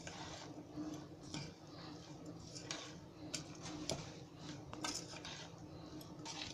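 A spoon works through a sprouted pulses salad dressed with lemon in a bowl, giving a steady run of close clinks and scrapes against the bowl with a few sharper ticks, no talk.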